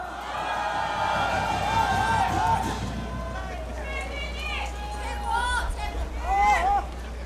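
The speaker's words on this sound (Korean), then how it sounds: "큰 박수 부탁드립니다." Crowd of supporters at an outdoor political rally on a rainy weekday, cheering and whooping in a steady roar of hubbub, with a few raised voices and whistles rising above the noise.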